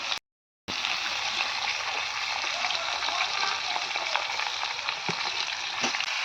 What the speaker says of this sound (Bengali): তো আমি আলুটাকে ভালোভাবে ভেজে নিয়েছি। তার মধ্যে দিয়ে দিয়েছি বেগুনটা, টমেটোটা